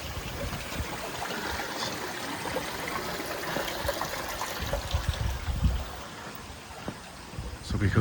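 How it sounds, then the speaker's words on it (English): A river flows past a village in Sha Tin, Hong Kong, a steady broadband rush of water running close by with continuous trickling, holding level throughout and swelling slightly near the end. "This is the river."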